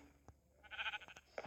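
A Minecraft sheep bleats a few times in short, faint, wavering bursts, with a couple of soft clicks between them and no speech.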